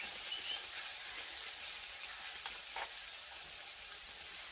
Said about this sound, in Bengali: টমেটো কুচি দিয়ে দিলাম। এবারে হালকা নেড়ে চেড়ে একটু হলুদ